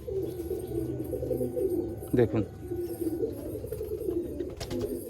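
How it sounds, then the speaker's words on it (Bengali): Big-size Mukho pigeons of the Katagaddan type, Malwai birds in Baruipur, coo steadily with a low rolling murmur close by, while someone speaks briefly over them. "দুটো একদম স্পেশাল মুখো পায়রা দেখুন, কাটাগদ্দান মুখো।"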